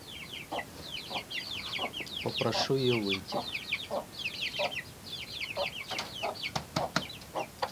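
A broody hen clucks in short repeated bursts, close by, with a brief louder squawk partway through, while a person speaks quietly under the clucking.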